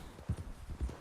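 Horse hooves clip-clop in Red Dead Redemption 2, a few quick uneven thuds close by within about a second, with no voices.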